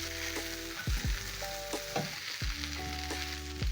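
French fries and beef sizzle steadily in a pan, close and moderately loud, with repeated scraping and tossing sounds from the utensil; no voices.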